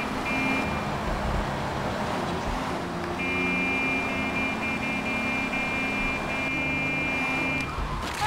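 Car horn honking repeatedly in Grand Theft Auto 3, steady tonal blasts sustained over loud engine and traffic noise while driving.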